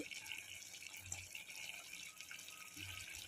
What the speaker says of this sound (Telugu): ముక్కలు మునిగే వరకు వేయాలండి వాటరు, నీళ్ళు.